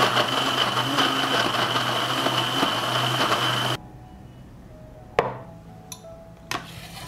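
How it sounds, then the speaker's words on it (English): A blender whirs loudly and steadily as it blends ginger, lemon juice and water, then stops abruptly, followed by a few sharp knocks and clinks of the jug. "I will blend everything."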